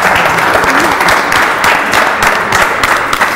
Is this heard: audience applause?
yes